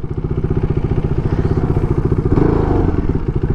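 KTM RC390 BS3 single-cylinder motorcycle engine and exhaust running steadily at close range, a loud, even throbbing pulse that swells briefly midway as the rider opens the throttle, with no talk over it.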